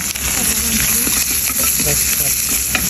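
Leafy greens hitting hot oil in a pan seasoned with onion and chili, a loud, steady sizzle with stirring clatter underneath, close up and continuous.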